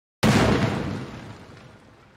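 A single loud explosion bursts out in Honkai Impact 3rd, sharp onset followed by a long rumbling decay that fades over about two seconds, heard alone without talk.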